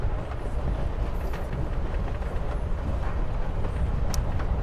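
A train rolling along rails in the video game Life Is Strange: Before the Storm, a steady, dense low rumble with continuous rattling that holds an even level throughout, with no talking.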